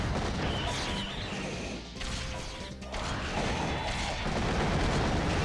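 Explosions and crashing impacts from the Mega Man X7 video game, loud dense bursts with a brief dip in the middle before the din builds again, heard alone.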